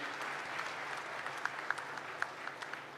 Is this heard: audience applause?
yes